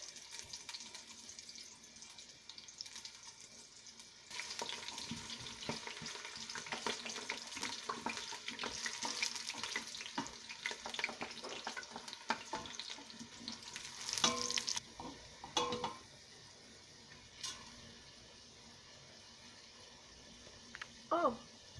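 Potatoes sizzle in a pan, being browned for pilau rice. The frying is steady and close, with stirring scrapes through the middle, and it thins to quieter crackles and occasional clatter toward the end.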